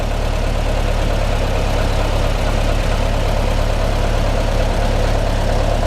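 A Speedster's engine idles stone cold, a loud, continuous low rumble with a slightly uneven, lumpy pulse, recorded up close with no voices.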